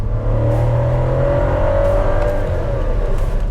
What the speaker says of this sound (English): this small 1 liter engine is that while it's smooth, fuel efficient, nice, punchy, it is also sort of good sounding